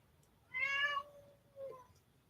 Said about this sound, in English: my cat wants to play